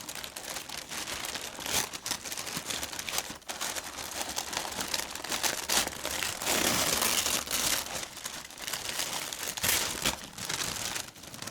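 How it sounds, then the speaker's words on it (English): Paper wrapping on a boxed Serbian or Croatian snack is unsealed with steady, close crinkling and tearing rustles that swell and fade for about eleven seconds, with no one speaking. "So I'm now going to unseal the paper."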